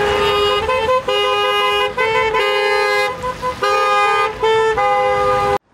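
A motorcade of twenty cars sounds sustained horn blasts, several horns overlapping in long loud tones with brief gaps, over the hum of traffic, cutting off abruptly at the end.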